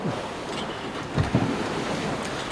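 Open-sea waves in the aftermath of a storm wash and surge around a sailing boat, with gusting wind buffeting the microphone and a couple of heavier slaps of water.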